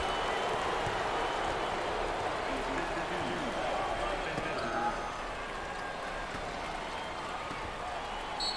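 A packed arena crowd at a 2023 NCAA March Madness first-round basketball game between Arizona State and TCU roars and cheers in a sustained, dense wash, with a commentator talking over it.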